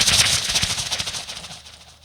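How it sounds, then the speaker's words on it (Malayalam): Firework bangs set off as a sound effect on stage at a Malayalam comedy show, a loud dense crackling burst of rapid reports that gradually fades over two seconds, with no talk. "അപ്പൊ പിന്നെ വെടിക്കെട്ടും ആയിക്കോട്ടെ."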